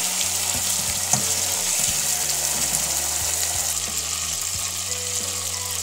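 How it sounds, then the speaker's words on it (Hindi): Chopped garlic and tomatoes fry in a pan with a steady, loud sizzle and occasional stirring clatter, continuous and close throughout with no talk. "3 से 4 अदद टमाटर मैंने इसमें काट के डाल दिए हैं"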